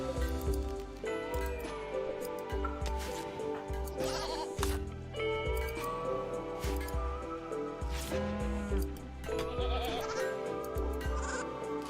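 Goats bleat repeatedly in the colony-simulation video game RimWorld, a dense run of overlapping wavering calls that keeps going for about twelve seconds at a fairly loud, even level.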